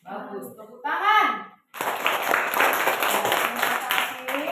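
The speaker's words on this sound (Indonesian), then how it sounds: "Tepuk tangan." Students in a classroom clap for a group that has just presented its work. Brief speech comes first, then loud, steady clapping from many hands that lasts to the end.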